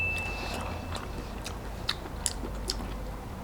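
Someone eats a bowl of fried mushroom noodle soup close up, with faint chewing and a few soft slurping and biting sounds over quiet room hiss.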